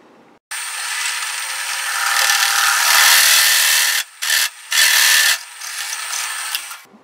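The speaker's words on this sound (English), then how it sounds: "I drilled a large hole in the top only" Drill boring a large hole through a DIY hunting camera arm mount, a loud harsh grinding whine that builds, then breaks into short bursts with brief pauses near the end.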